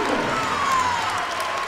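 A crowd in the Reilly Center basketball arena roars and cheers at a college game between St. Bonaventure and Canisius, a dense, loud, sustained wash of noise.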